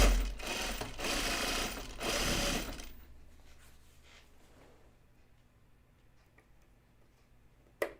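Sewing machine stitching jeans, a steady whirring buzz of rapid needle strokes for about three seconds, then stopping, followed by faint mechanical ticks and a final click.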